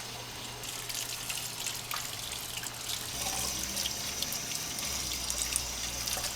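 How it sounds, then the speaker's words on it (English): Water drips and trickles from an SCBA face mask being drained after washing, a steady wet patter close by with no talking. "Get all the water out, let it all drip out."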